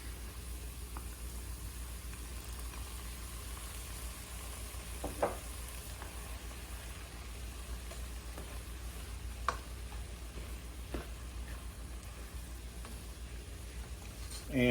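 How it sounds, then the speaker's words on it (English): Tomatoes sizzling in a pan while cooking berbere spiced chicken, a steady soft frying hiss with a few faint clinks of stirring, heard alone at moderate level. "we're going to go ahead and put in our tomatoes"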